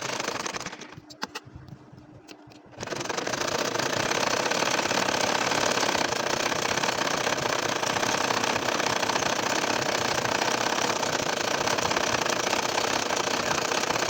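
A home sewing machine stitches a nakshi kantha quilt, running as a steady continuous mechanical hum after a brief quieter pause, loud and unbroken for over ten seconds.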